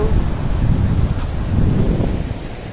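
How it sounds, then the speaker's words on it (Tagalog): Strong sea breeze blowing across a microphone on an outing by big ocean waves, a steady broadband rush with wind buffeting and surf roar underneath, loud and continuous without a break. "Sarap ng simoy ng hangin, no? Fresh na fresh from the sea."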